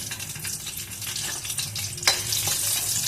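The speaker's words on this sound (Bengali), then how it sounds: "ফোড়নটা ভাজা ভাজা হোক" Whole spices and dried red chillies sizzle in hot oil as a tempering, a dense crackling hiss that swells sharply midway as something is added, with occasional stirring; no one speaks.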